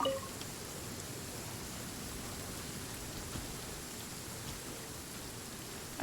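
Steady rain falls in a video game during a lightning storm, a constant soft hiss spread evenly across the scene, with no voices over it.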